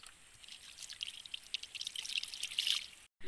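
Water pours steadily into a pot, a splashy trickling stream that swells a little before stopping abruptly near the end.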